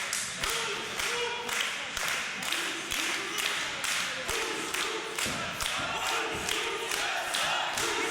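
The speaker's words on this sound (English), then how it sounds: "you can hear the crowd here, Brad, split right down the middle" A loud, dense arena crowd at a women's wrestling show roars and cheers continuously, with rhythmic clapping or stomping pulses running through the din.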